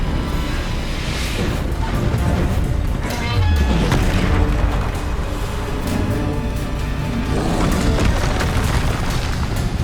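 A Confringo blasting spell explodes in the Hogwarts Legacy video game, a loud booming blast with crackling debris set in a dense, continuous wash of game sound.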